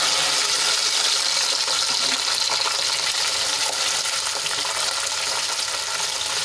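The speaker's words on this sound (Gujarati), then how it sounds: "તો હવે આ તેલમાં આપણે ગુંદાને ફ્રાય કરી લઈશું." Gunda (glue berries) frying in hot oil in a home kitchen: a dense, continuous crackling sizzle, close and loud, unbroken for several seconds with no talking.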